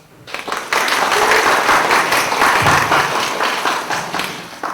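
An audience at a DevFest Songdo machine learning talk on TensorFlow 2.0 breaks into loud, sustained applause, dense clapping swelling after a brief quiet start and tapering slightly near the end.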